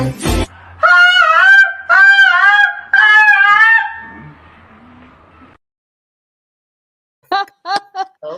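Loud, nasal bird honks come in three long repeated calls, then fade, followed after a pause by a few quick, shorter honks.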